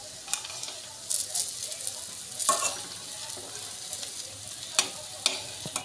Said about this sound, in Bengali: এবার বড়াগুলো আমি এক এক করে উল্টে দেবো।